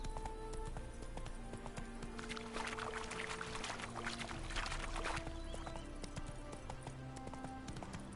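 Roach, the horse in The Witcher 3 video game, trots with steady hoof clip-clops over a busy mix of game ambience and music, loud and continuous throughout.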